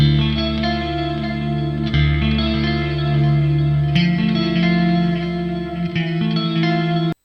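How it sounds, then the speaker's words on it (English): Layered, effect-heavy guitar chords from a Neural DSP Archetype Gojira plugin ring out with an eighth-note dotted delay bouncing between sides, washing into reverb and echo tails before stopping abruptly. "on the left side and on the right side got a 8th note dotted delay, so the delay like moves in your ears"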